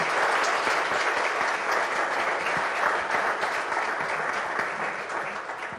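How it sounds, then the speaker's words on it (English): Sustained applause from an audience at a moot court competition finale, loud and steady throughout with no break. "We have a round of applause for this."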